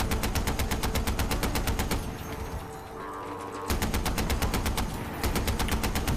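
Sustained automatic gunfire in the video game Far Cry 4, loud, rapid and evenly paced, with a brief lull in the middle before the bursts resume.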